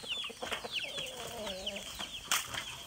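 A chicken clucks faintly in a few short calls on a rural Vietnamese farm, with a brief flutter and other quiet outdoor sounds around it.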